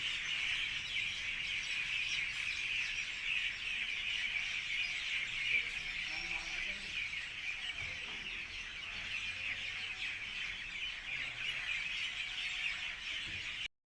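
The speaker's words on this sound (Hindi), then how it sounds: "चिड़ियों की चहचहाहट जो है ना बहुत ही प्यारी लग रही थी" Birds chirp and tweet steadily through an evening scene, a dense continuous twittering at moderate distance with no talking.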